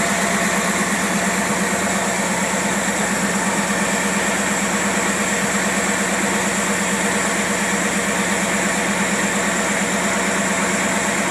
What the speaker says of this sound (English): I can hear the distributor rotating around in there.